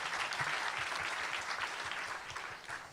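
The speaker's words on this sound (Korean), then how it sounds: "다시 한번 큰 박수 부탁드리겠습니다" Applause from an audience at a startup forum, rewarding a presenter who has just finished a five-minute pitch, a dense, steady round of many hands clapping, close and loud, with no speech over it.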